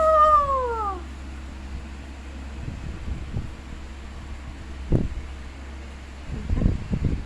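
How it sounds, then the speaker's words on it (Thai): A female cat gives one short, descending meow at the start. Faint rustling and low steady hum from an outdoor setting follow, with a few soft bumps and no talking. "แมวตัวเมียนะคะล่าสุดแล้วก็สุดท้ายแล้วที่ไปเฮ็ดหมันนะคะ"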